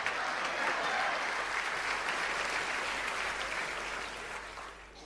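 Big, sustained applause from a large audience at a Tamil Deepavali pattimandram comedy show, greeting a director; dense steady clapping that fills the space and tapers slightly toward the end.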